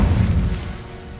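A Confringo blasting spell explosion in Hogwarts Legacy: a short, deep, rumbling boom that fades quickly after its loud start.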